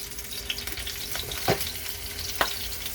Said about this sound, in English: we're going to go on and get these to searing